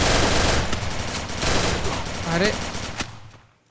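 Rapid gunfire in the mobile battle-royale game Free Fire, dense bursts of shots filling the foreground with a brief spoken exclamation near the end before the noise cuts off.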